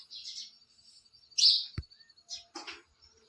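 Sparrows chirping outdoors in a village farmyard, a few sharp, high tweets scattered in short bursts with quiet gaps between, fairly close, along with a couple of low thumps.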